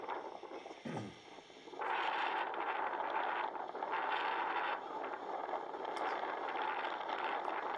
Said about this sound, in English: See the sound of the wind and the breeze.